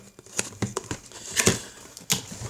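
Packaging of a virtual reality headset being unboxed, giving a few short, close crinkling and rustling bursts with brief pauses between them and no talk.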